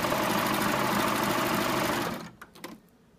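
A Baby Lock serger runs at a fast, steady whir as fabric is fed toward the blade under the presser foot, close and loud, then stops, followed by a few soft clicks and handling sounds.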